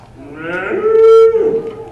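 A single cow moos loudly and close by in a long, steady, low call that swells and then fades, with no talking.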